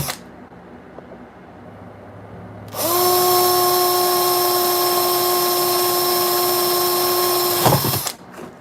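Power drill boring holes in a guitar pedal enclosure, a loud steady high whine lasting about five seconds after a quiet start, then winding down abruptly, no voices.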